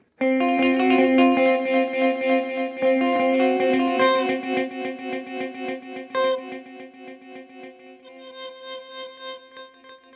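A Cooper FX Arcades pedal with the Grains card adds granular repeats to a played guitar phrase, giving loud sustained notes with stuttering, repeating fragments and a shimmering, effected tail, with no voices.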